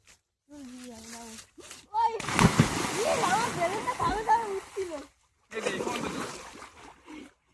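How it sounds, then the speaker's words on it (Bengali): Children jump into a shallow village pond, each plunge bursting into a loud splash and sloshing water, with excited voices chattering before and between the two splashes. "দেখি আমি আবার ঝাঁপ কাটি তো"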